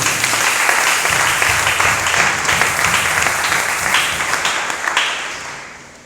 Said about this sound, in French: Est-ce que nous pouvons acclamer pour la gloire de Jésus?